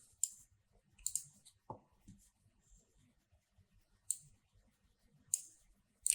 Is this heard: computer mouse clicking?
yes